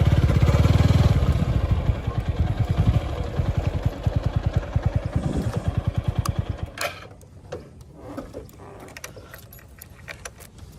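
Motorcycle low on fuel, stalled on a marine drive road, with its engine cranked and sputtering in a rapid rhythmic chug for several seconds before dying out, followed by mechanical clicks and rattles up close.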